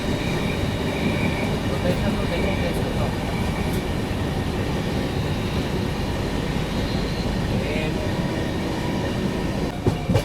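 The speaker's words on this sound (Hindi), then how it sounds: "देखो सामने से ये आ गई तिरुपति सिकंदराबाद वंदे भारत एक्सप्रेस।" The Tirupati–Secunderabad Vande Bharat Express train rushes past with a steady loud roar of wheels on rail, heard from aboard another train under cloudy skies, with faint squeals and clicks over the continuous rumble.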